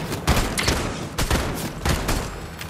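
Dense bursts of gunfire in a shooter video game, loud and rapid, with several volleys and short gaps between them and no talk.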